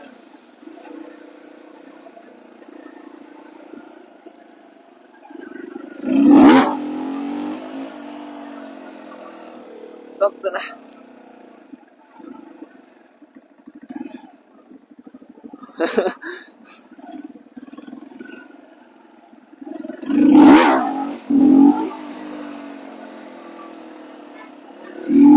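A Daelim Roadwin 125 motorcycle engine revs in short bursts between quieter idling, with a few sharp throttle blips standing out, while someone talks over it.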